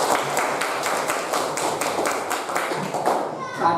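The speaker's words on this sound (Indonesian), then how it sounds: "Tepuk tangan untuk kita." Children and a teacher clap hands together in a classroom, a quick run of sharp, close claps in steady rhythm for a few seconds with young voices mixed in.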